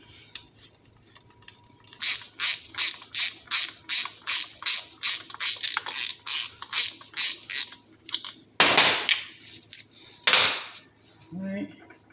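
A ratchet loosens the backing plate bolts on a Harley Davidson top end, giving a close run of rapid, evenly spaced clicks, followed by a couple of louder scraping pulls and a faint clink.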